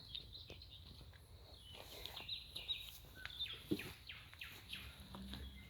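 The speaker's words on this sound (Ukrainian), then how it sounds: "Співають пташки тут їм." Small birds chirping outdoors in a quiet rural setting, scattered short high tweets and a few descending calls at moderate distance over faint background rustle.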